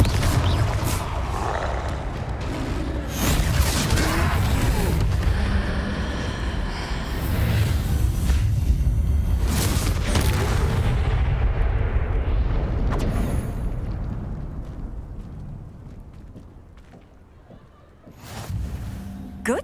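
Confringo blasting spells in Hogwarts Legacy: sustained rumbling explosions and crackling bursts roll on continuously, loud and dense, with a voice speaking in the mix before the din fades and a final burst lands.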